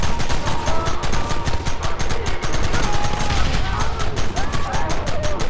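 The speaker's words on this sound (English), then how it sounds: "Open fire!" Sustained gunfire in the video game Red Dead Redemption, a loud, dense fusillade of rapid overlapping shots running throughout, with shouted voices mixed in.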